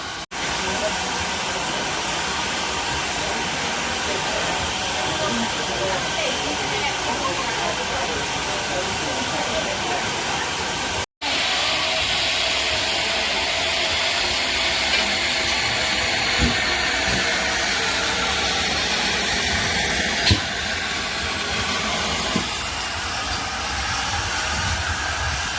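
A steam tank locomotive on the Paignton and Dartmouth Steam Railway hisses steadily with broad, continuous steam noise, a brief cut midway and a few faint clanks later.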